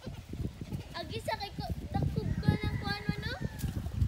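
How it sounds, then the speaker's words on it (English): Two newborn baby goats bleat in short, high, wavering cries, close by and repeated several times, while people talk excitedly over and between the calls. "We have two baby goats."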